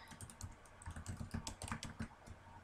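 Rapid, close keystrokes on a computer keyboard patter in an uneven rhythm, clear and alone.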